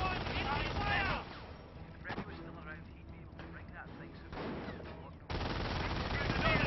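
Gunfire from Company of Heroes, a World War II strategy game, with bursts of rifle and machine-gun fire crackling in several loud stretches. A voice talks over the shooting.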